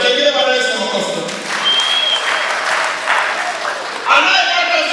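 A church congregation at an Easter seminar service claps in a broad, steady round of applause, with voices and crowd murmur mixed in and a brief swell near the end.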